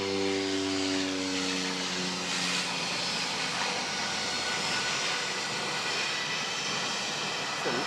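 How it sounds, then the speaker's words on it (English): A Cessna 208A Caravan propeller plane with an underbelly baggage pod flies near Wellington Airport on a clear day. A broad engine drone holds steady, with harmonic tones fading early on. "Got a little Cessna 208A caravan with a little pod on the bottom for the baggage flying on a nice day"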